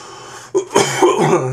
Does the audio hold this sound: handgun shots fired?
no